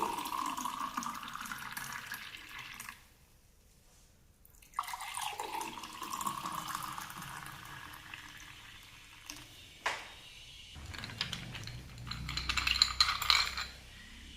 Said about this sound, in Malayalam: നമ്മുടെ ജ്യൂസ് നേരെ ഗ്ലാസ്സിലേക്ക് ഒഴിക്കാം.